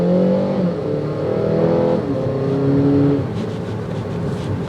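A 2022 Acura ILX accelerates smoothly and steadily, its engine note climbing through the gears in a loud, close, continuous drone.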